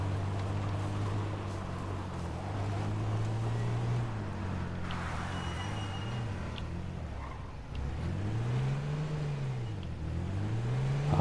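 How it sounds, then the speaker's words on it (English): A car engine in a video game car chase, droning steadily and then swooping up and down in pitch as it revs through gear changes and turns, fairly loud and alone without talk. "It's time for a car chase, baby!"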